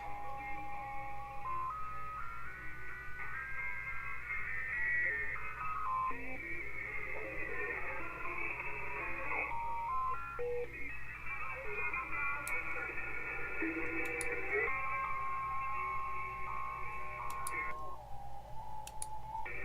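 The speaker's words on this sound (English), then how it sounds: "Sounds like dial-up." A radio signal received on a software-defined radio chirps and warbles like a dial-up modem, with shifting tones and faint clicks over a steady low hum throughout.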